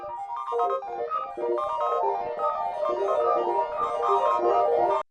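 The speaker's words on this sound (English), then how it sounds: "Then I ran it through a granulizer and a delay," Flute notes run through a granulizer and delay, smeared into a continuous shimmering wash with overlapping echoing tones and a steady, ambient drone-like sustain that cuts off sharply at the end.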